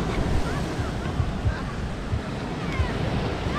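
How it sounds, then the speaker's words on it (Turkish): Rough sea waves at Şile beach, a continuous washing surf roar mixed with wind buffeting the microphone and faint distant voices. "Bu arada Şile'nin denizi çok dalgalı arkadaşlar."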